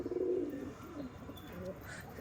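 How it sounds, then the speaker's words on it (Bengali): A white pigeon coos faintly and low a few times near the start, then fades into quiet outdoor background noise. "ওইদিকে একটা সাদা পায়রা যাচ্ছে"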